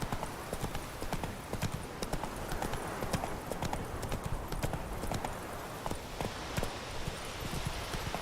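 The horse Roach gallops in The Witcher 3, its hooves drumming a fast, steady rhythm on the ground throughout. A faint whinny comes through, and the sound is dense and continuous, with a voice briefly underneath.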